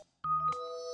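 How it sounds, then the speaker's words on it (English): A doorbell rings with two clear electronic chime tones in quick succession, the second note held and fading, alone and close. "And who's ringing the doorbell?"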